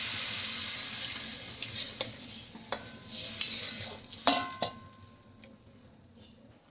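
Water is poured into fried lentils in a pot, a loud rushing hiss and sizzle that fades as the pour settles, followed by a few clattering stirs and knocks.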